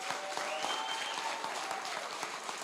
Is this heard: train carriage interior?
no